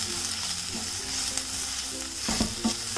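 A spatula stirs spices and egg in a hot frying pan, making a soft sizzle broken by a few scraping strokes against the pan, close by and brief.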